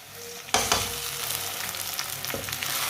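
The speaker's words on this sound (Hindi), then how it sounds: "2 मिनट के लिए पका लेंगे टमाटर को भी।" Chopped green chillies and tomato hit hot oil in a pan with a sudden loud sizzle, then a steady crackling fry continues with a few stirring scrapes, no voices.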